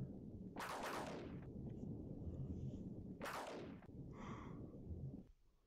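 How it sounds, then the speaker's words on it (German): Two heavy rumbling thunderclaps in the Terranigma video game roll out about three seconds apart over a steady hiss of falling rain, with no voices. "jetzt hat es gewittert und regnet ein wenig"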